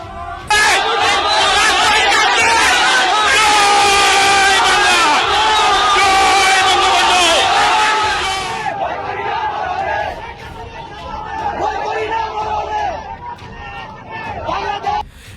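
A large crowd chants and shouts in unison at a protest march in Dhaka's Bangla Motor area, loud and close, with the massed voices dropping somewhat after about eight seconds but continuing as rowdy babble.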